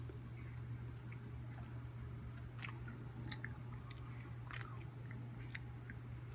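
A five-year-old boy chewing a Bean Boozled jelly bean: soft, irregular crunchy bites and wet chewing clicks, close but very faint over a low steady background hum, with no talking.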